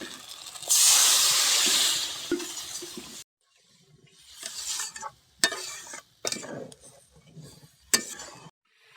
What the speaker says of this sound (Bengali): মশলা থেকে তেল ছেড়ে দিয়েছে এখন জল দিয়ে দেবো